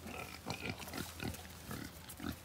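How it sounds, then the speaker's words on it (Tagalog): Newborn piglets squealing and grunting in a pen on a farm, a continuous chorus of overlapping high squeaks and snorts close by, with no talk. "Yan po ang ating mga biik dito."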